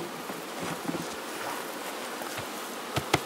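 Honeybees hum steadily around hives during a calm morning chestnut honey harvest, a faint, even buzz with a few small clicks and knocks near the end.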